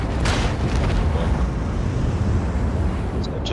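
A ship's cannon volley in the space strategy game Rogue Trader: a broad, rumbling boom rolls out loud and steady, with a sharper crack near the start and no voices.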